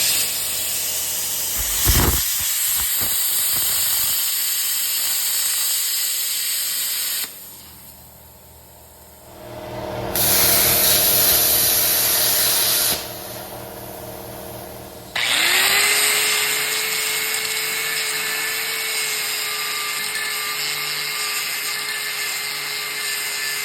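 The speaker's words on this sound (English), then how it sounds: "We're just gonna do what? Gouge out the welds." Welds being gouged out on a steel hay wagon build, a loud sustained hissing, roaring blast that cuts in and out in long stretches with brief pauses, then settles into a steady roar with a droning tone.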